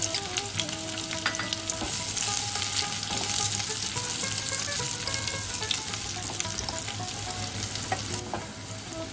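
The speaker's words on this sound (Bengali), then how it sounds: "কুচনো পেঁয়াজ আমরা ভেজে নেব।" Chopped onions fry in hot oil with a continuous, bright sizzle, fairly loud and even, with faint clinks of stirring and a slight drop in intensity toward the end.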